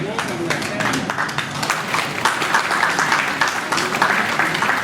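Crowd clapping at a chef award ceremony, continuous brisk applause from many people, fairly loud and even throughout, with voices talking underneath.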